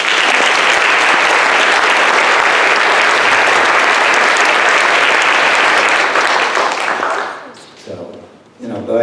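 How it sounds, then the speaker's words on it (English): A school board meeting audience gives a long round of applause for the school staff, dense and steady clapping that fills the room, then tapers off near the end into scattered claps and murmurs. "They deserve a big round of applause."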